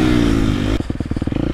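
A 2023 Husqvarna FC 250 dirt bike engine drones at steady high revs, then drops into a rapid pulsing, choppy rhythm as the rider rolls the throttle on a muddy track, loud and close.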